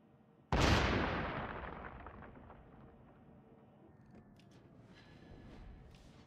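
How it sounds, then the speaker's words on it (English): A warship's naval guns fire in one heavy broadside from World of Warships, a loud deep boom that rolls off into a long fading rumble, with faint distant shots following. "All stations, concentrate fire on the target."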